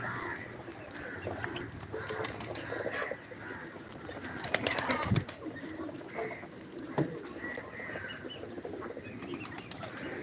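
Ducks feeding close by, with scattered quacks, clucking calls and a brief burst of wing flapping over a soft background, at moderate loudness.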